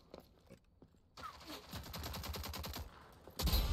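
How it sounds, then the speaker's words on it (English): Burst of rapid gunfire in the online shooter Rogue Company, sniper rifles in play, starting quietly then building into a dense volley with a loud blast near the end. "Who was that shooting?"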